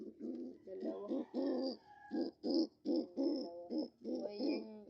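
Pigeons coo in a rhythmic series of soft, throaty hoots, close by and otherwise quiet, with short pauses between each call.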